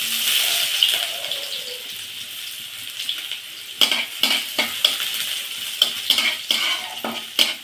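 Chopped onions drop into hot oil with black cumin and sizzle, then sharp, rhythmic spatula strokes scrape the pan in quick bursts during the second half, close and clear with no talking.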